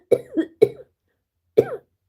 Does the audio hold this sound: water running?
no